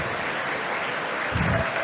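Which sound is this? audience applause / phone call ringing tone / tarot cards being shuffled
audience applause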